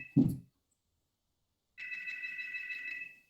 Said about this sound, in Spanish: voy a atender el teléfono